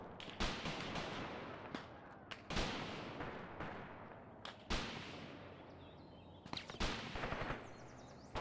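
Bursts of tank-mounted 7.92mm MG37 machine gun fire in the Graviteam Tactics war game, several sharp volleys spaced across the span over a dense rumble of battlefield gunfire, fairly distant and moderately loud.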